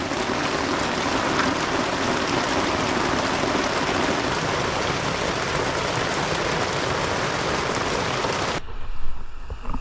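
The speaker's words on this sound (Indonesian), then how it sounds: "Hujannya sangat lebat sekali." Heavy rain pouring down in a forest during a multi-day jungle trip, a loud dense roar of falling water that holds steady for most of the stretch, then cuts away abruptly near the end.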